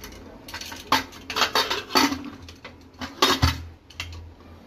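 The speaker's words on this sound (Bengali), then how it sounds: "কুকারে ঢাকাটা লাগিয়ে দিলাম।" A metal pressure cooker lid is fitted onto the pot in a kitchen, with a series of close clanks, clinks and scrapes of metal against metal in uneven bursts, no voices.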